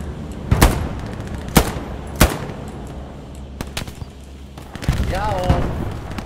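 Machine gun fire in the military shooter game Post Scriptum: several loud sharp bursts and single cracks at irregular intervals, with people talking between them.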